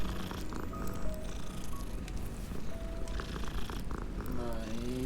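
A cat purrs steadily in a video game, a close, continuous rumbling purr over faint background game sounds.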